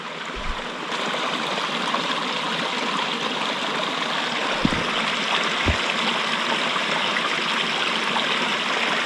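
A mountain stream flows steadily on a hot July day in Idaho, its constant rushing and babbling close by and unbroken, with a few brief low thumps and no talking.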